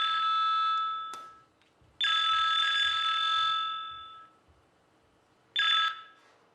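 A telephone rings in long electronic trills: one ring, a pause with faint knocking, a second longer ring, then a short third burst starting, clear and prominent with no voices.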